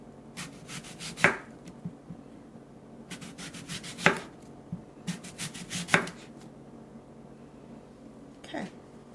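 A knife slices food into thin pieces for a bento lunch, giving about four crisp cutting strokes against a board spaced a couple of seconds apart, each with a brief rasping slide, close and fairly quiet with no talk.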